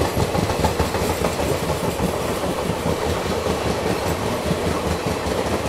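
Shatabdi Express train running on the rails alongside another train, a steady loud rumble with continuous rhythmic clickety-clack of wheels over track joints, heard from on board without talking.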